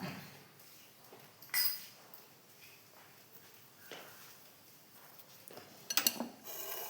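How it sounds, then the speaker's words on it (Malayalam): Risen dough for steamed roti being stirred and poured into a vessel, with soft scraping and a few faint, sharp clinks of a utensil against metal, loudest in a quick cluster near the end. "അപ്പോൾ നമുക്കിതിലേക്ക് ഇത് ഇളക്കിയിട്ട് പകർത്താം."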